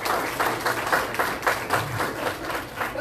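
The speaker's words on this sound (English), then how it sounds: "One more round of applause for these two ladies." Audience applause fills a stage presentation for an Alaska cruise with Holland America Line, steady clapping from a crowd sustained evenly throughout, with no speech over it.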